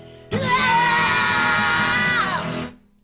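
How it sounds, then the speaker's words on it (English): Band members yell together into their microphones during a soundcheck, a loud, sustained, shared shout lasting over two seconds before it cuts off. "But if we yell, does it break up?"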